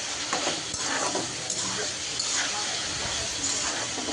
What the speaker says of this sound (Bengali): ভাজিটাও নেড়ে চেড়ে দিচ্ছি।